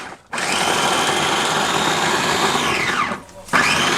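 A small electric mini chopper whirs loudly and close while chopping ginger, garlic and onion. A sustained high-pitched motor run stops briefly, then starts again.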